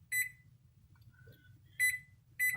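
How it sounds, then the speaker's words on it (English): A kitchen oven timer gives three short, sharp electronic beeps as buttons are pressed to set it, spaced irregularly over a low background hum. "so now we're going to set the timer"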